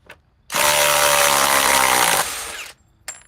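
A Ryobi power tool whirs at high speed for about two seconds, loud and close, then winds down, with a short burst of noise just after.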